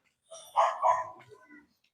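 A plump dog barks once or twice up close on an overcast day outdoors, a short burst of yelps and a lower woof with no talk over it.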